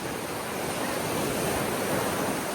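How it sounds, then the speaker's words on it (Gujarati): Continuous roar of surf washing onto the shore at Devka Beach, steady and broadband with a faint wind rumble, no voices. "કેવું પાણીનો અવાજ આવે છે જુઓ આ દેવકા બીચ પર છે"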